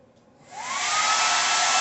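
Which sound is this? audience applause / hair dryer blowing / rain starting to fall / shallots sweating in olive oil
hair dryer blowing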